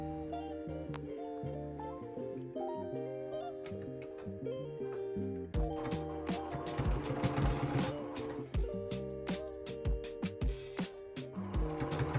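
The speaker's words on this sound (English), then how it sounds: "I sewed about a 1/4 inch seam down one side." Sewing machine running a quarter-inch fabric seam, a rhythmic mechanical ticking and whirring heard close up behind music that plays throughout.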